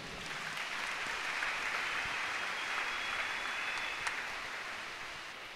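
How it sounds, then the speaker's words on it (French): A church congregation applauds in a sustained, even wash of clapping that swells slightly and holds for several seconds before easing off. "Acclamons le Seigneur."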